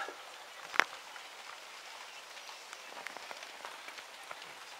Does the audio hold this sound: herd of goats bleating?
no